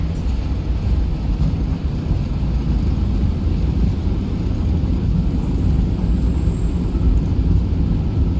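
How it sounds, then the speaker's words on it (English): Reverse thrust on a PMDG 737-8 landing in a flight simulator, a steady, loud, broad engine roar that holds evenly throughout without pause. "Reverse thrust."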